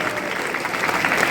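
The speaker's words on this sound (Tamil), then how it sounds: "இந்த கல்லூரிக்கு ஒரு கைத்தட்டல் தட்டுங்க கண்டிப்பா." An audience at a college annual event claps in a brief burst of steady, dense applause from a crowd nearby.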